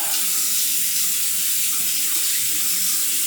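Tap water runs steadily from a faucet into a sink to wet the face before a shave, a continuous, close, fairly loud hiss and splash with no talking.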